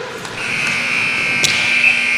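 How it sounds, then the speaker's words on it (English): A loud, sustained electronic buzzer in a hockey arena ends the third period of a BC Thunder versus Manitoba Herd game, holding one steady tone with a few brief crowd or impact sounds over it. "that buzzer signals the end of the third period"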